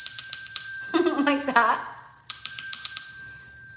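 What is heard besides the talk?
triangle dinner bell being rung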